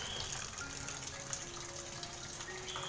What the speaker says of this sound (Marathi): इथे ना बोरिंगचं पाणी येतं